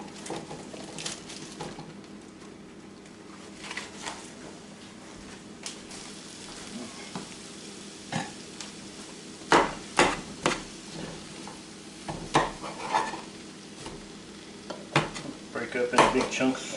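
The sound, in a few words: cremini mushrooms frying in butter in pan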